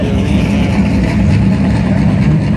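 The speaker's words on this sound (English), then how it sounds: "That sounds pretty good, doesn't it?" A Ford Performance car idles at a car show, a loud, steady, deep engine rumble held close and unbroken throughout, with no talking.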